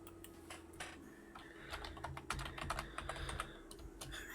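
Rapid, irregular clacking of keys on a computer keyboard, close and fairly quiet, continuing steadily with brief pauses over a low background hum.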